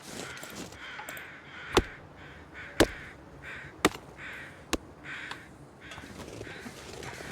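Several sharp crow caws ring out one at a time at irregular intervals over a soft, steady ambient backdrop in the video game The Long Dark, Mystery Lake; no one speaks.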